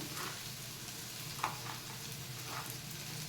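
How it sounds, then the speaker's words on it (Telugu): Ginger and sesame seeds fry in a pan for pesarattu, a soft steady sizzle with faint stirring scrapes and one brief clink, close and moderately quiet, with no talk. "నువ్వులు కొంచెం ఎక్కువ వేగే పని లేదు కాబట్టి నువ్వులు కూడా కొంచెం ఇప్పుడు వేస్తున్నాను."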